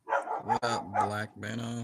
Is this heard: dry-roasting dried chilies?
no